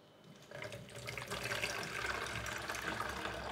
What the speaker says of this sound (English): And now my cauliflower water mixture. So all we have to do is sieve it.